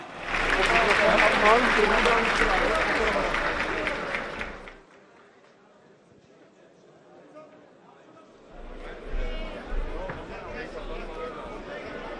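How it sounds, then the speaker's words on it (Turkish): An audience of farmers at a rural development meeting in Ankara gives loud applause that fades out after a few seconds, then quieter clapping and crowd noise return later. "coşkulu alkışlarınızı duyalım değerli katılımcılar bir kez daha"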